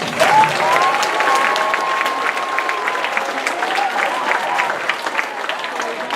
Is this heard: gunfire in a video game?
no